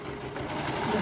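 A serger sewing machine runs continuously at steady speed, a close, even mechanical hum and rapid stitching rattle with no pauses for the whole second.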